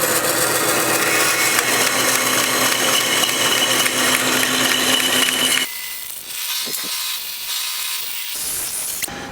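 A power saw cuts out metal plates in a workshop, grinding loudly and steadily before dropping to a lower whir and rattles as the cut finishes.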